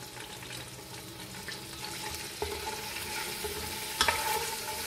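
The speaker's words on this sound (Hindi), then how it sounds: "चॉप किए हुए 10 से 12 cloves लहसुन के ये डाल रही हूँ। लो फ्लेम पे इसको पकाएंगे।" Chopped garlic frying on low flame for Punjabi karhi pakora, a soft continuous sizzle with a few faint stirring clinks, quiet and close, no speech.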